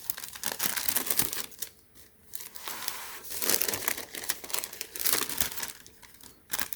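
Tissue paper crinkles and tears close up while Nike Air Jordan 3 Retro Laser Orange sneakers are unboxed, loud crackling rustles in bursts with short quiet gaps and no talk.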